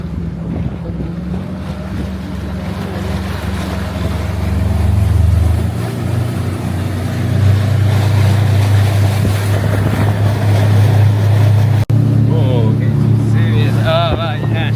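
A boat engine drones steadily on Lake Atitlan near San Marcos while wind buffets the microphone and water rushes past, with people talking briefly near the end.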